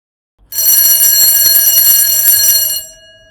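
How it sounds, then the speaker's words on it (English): An electric alarm bell switched by the relay of an LED digital wall clock, model WS604S, rings loud and continuous for about two seconds, then stops sharply. "the alarm triggers the relay, and the alarm bell rings for 2 seconds"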